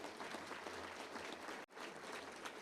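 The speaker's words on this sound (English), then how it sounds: "Let's give him a round of applause." Dense crowd applause fills a Touchdown Club luncheon room, steady and loud throughout, broken by one brief dropout before the clapping resumes at the same level.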